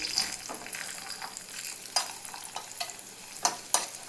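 Cashews roasting in a pan: a soft, continuous sizzle broken by scattered scraping and clicking strokes from stirring, close and fairly quiet.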